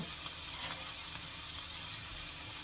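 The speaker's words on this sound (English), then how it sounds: "I'm gonna add my tomatoes in here." Peppers and tomatoes sauté gently in a hot pan, giving a soft, steady sizzle with faint crackles, quiet and continuous without any talking.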